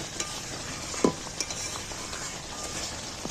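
Meat curry with onion and yogurt gravy being stirred and fried in a pan, a steady sizzle under a few sharp scraping stirs of the spoon, close and fairly quiet, no talk.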